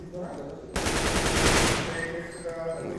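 Gunfire in a first-person shooter match between TyLoo and Renegades at an Asian Minor Championship playoff, heard as a dense burst of rapid shots lasting about a second with lighter shots and game sounds continuing afterward.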